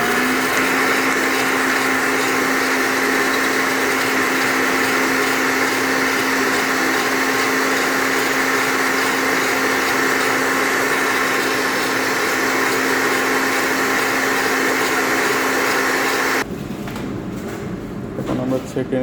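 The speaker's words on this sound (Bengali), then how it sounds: "কমপ্লিট ব্লেন্ডার হয়ে গেল।" A laboratory blender runs steadily while blending tomato for a vitamin C fruit sample, a loud continuous motor whir that holds for most of the clip and then cuts off abruptly near the end.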